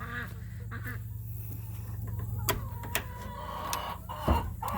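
Hens cluck and chatter inside a chicken coop, a busy mix of overlapping calls, some sharper squawks and honk-like cries, with a steady low hum underneath and no talking.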